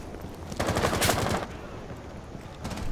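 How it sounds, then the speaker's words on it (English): Burst fire from a FAMAS rifle in the Rainbow Six Siege video game, a loud rapid volley of gunshots lasting about a second, followed by quieter in-game ambience. "This burst mode in this FAMAS is nice."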